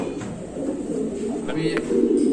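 Racing pigeons coo softly inside a loft, low burbling calls running under nearby talking.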